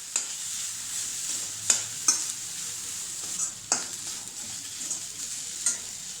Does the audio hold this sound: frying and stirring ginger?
yes